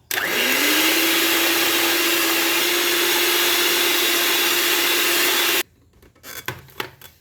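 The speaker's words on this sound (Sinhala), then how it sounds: "දැන් හොඳට සීනි, බටරුයි, බිත්තරයි හොඳට බීට් කරගන්නවා." An electric mixer beats sugar, butter and eggs for a chocolate cake batter, a loud steady motor whine holding for over five seconds before cutting off, followed by a few soft clatters.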